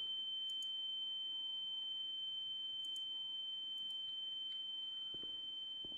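High-pitched ringing tone in The Town of Light video game, a steady piercing whine held throughout, with faint chirps and a low rumble beneath.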